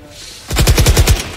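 Gunfire in the video game Valorant, a rapid burst of about seven loud, sharp automatic shots fired close after a quiet start.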